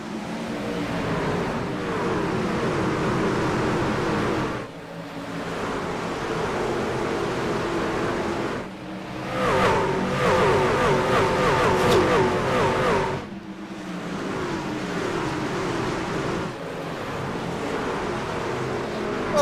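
Race cars roar around the Iowa oval in a sim racing video game, a continuous loud engine drone with shifting pitch and brief dips as cars pass, steady throughout.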